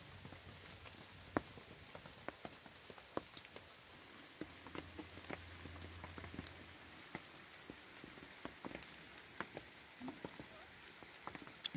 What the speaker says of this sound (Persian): که بارون شدیده بتونیم آب جمع کنیم